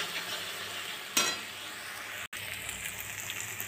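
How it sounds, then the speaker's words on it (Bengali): Spiced paste with peas sizzles and is stirred in a frying pan, a steady close hiss of frying with scraping strokes and a brief louder stir, no voices. "এবার এটাকে আমরা কষিয়ে নেব ভালো করে।"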